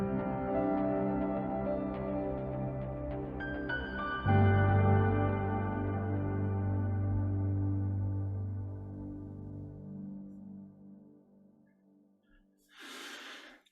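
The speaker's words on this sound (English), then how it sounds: "So here's just an example it's piano, a bit of synth bass, and then just the reverb." Piano with synth bass runs through a custom reverb effect, sustained chords swelling into a deep bass note before a long smooth decaying tail, followed by a short breathy noise at the end.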